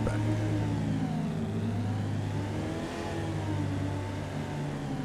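Car engine in Farming Simulator 25 holding a steady mid-pitched drone with a slight rise and fall in revs, alone and fairly close, with no voices.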